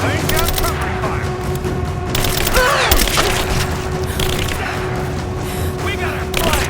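Rapid bursts of gunfire in Rise of the Tomb Raider, loud and close, with dense automatic volleys and booms layered over shouted combat voices.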